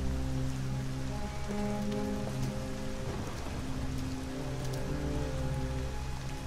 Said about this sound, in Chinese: 完了，淋雨了。